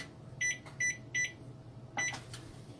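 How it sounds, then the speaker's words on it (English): Kitchen timer set while baking a new batch of gingersnaps, giving three short electronic beeps in a steady rhythm followed by a fourth beep, close and clear over a quiet room. "And put the timer on for kitchen timer."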